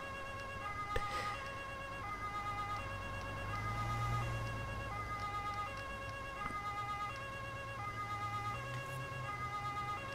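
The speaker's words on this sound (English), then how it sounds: "How do you like my siren?" A wailing electronic police car siren in a video game cycles steadily at moderate volume, with a low engine hum underneath and a brief thump near the start.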